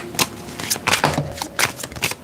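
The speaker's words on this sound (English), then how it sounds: "Shuffling for Gemini." Brisk riffling of a deck of tarot cards being shuffled, several quick bursts close by with short pauses between them.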